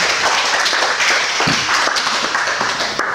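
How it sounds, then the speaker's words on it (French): Karate students at a grading exam are applauded by a small group, a brief burst of quick, fairly loud clapping in a reverberant hall with no voices over it. "On les applaudit."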